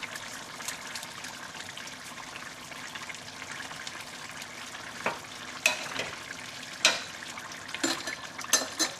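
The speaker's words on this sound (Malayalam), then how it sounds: "അപ്പോൾ കറി നന്നായിട്ട് തിളച്ചിട്ടുണ്ട്. നമുക്ക് ഇടയ്ക്ക് കറി ഒന്ന് ഇളക്കി കൊടുക്കണം." Spicy Kerala-style mutton curry bubbling and frying in a pot while being stirred, a soft continuous sizzle broken by several sharper scrapes and clinks of the spoon toward the end, no voices.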